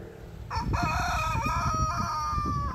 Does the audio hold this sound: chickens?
yes